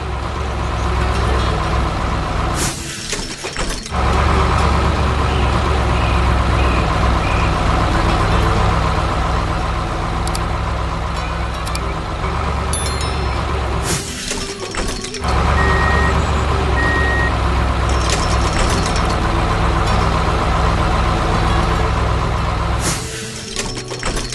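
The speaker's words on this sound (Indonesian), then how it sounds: "Truk derek itu mencoba menariknya keluar." A 3D-animated construction scene where a tow truck tries to haul an excavator out of a pit: heavy diesel engine rumble and idling with hissing air-brake bursts and periodic reversing beeps, loud and continuous throughout.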